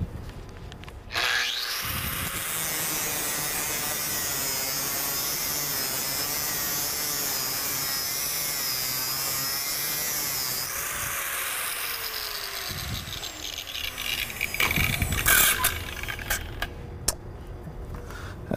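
A 3M abrasive disc on a power tool bevels metal, a sustained whining grind close by for most of the stretch that shifts in pitch and ends with a few sharp scrapes and knocks.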